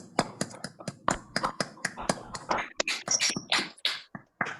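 Scattered applause from an online audience unmuting over a video call, with sparse uneven claps and taps arriving from many separate microphones rather than blending into one sound, some faint and some sharp and close.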